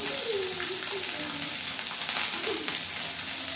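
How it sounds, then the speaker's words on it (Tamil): Murrel fish fries in a pan with curry leaves, giving a steady, bright sizzling hiss with a faint bubbling underneath. A voice speaks briefly over the frying. "இது வந்து நல்லா ஃப்ரை ஆகட்டும்."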